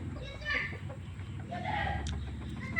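A wild red junglefowl rooster kept for breeding makes low, soft clucks close by, with someone talking quietly over it.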